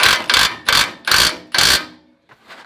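A ratchet clicks in five quick, loud bursts followed by two fainter ones while bolts are tightened on a Toyota N60 4x4 suspension up close.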